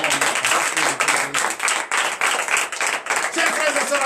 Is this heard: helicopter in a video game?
no